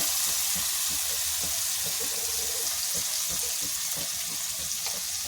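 Ground spice paste with turmeric and salt frying in a pan for aloo fry, a dense steady sizzle with rhythmic stirring scrapes pulsing through it, close and fairly loud.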